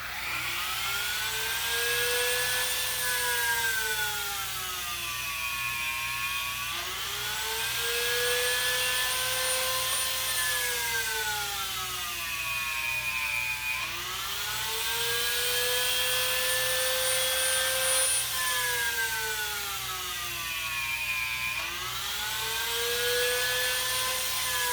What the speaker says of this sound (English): I'm going to drill these out